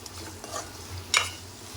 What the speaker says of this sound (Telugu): ఒకసారి మొత్తం కలిపేసుకొని